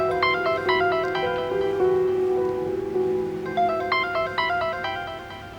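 A phone ringtone plays a loud, clear melodic tune that repeats its pattern twice without any voices, close up and steady indoors at home.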